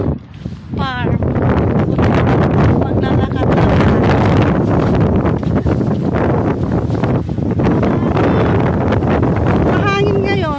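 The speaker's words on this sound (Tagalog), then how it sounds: "Mahangin ngayon." Strong wind buffets the microphone on a farm, a steady loud roar with rustling gusts throughout while a person talks over it.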